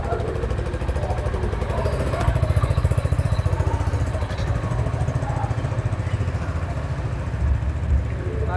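A petrol motorcycle engine putters with a fast, steady idle, near and fairly loud, its rhythmic throb and mechanical clatter holding throughout.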